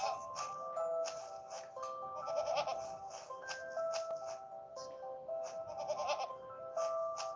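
Goats on a farm in the Green Adventure farm game, bleating in repeated short calls over light game background sounds, fairly close, with no talking.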